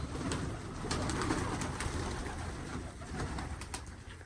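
Pigeons coo softly while being fed wheat outdoors, with several low repeated coos overlapping against faint background noise and occasional light clicks.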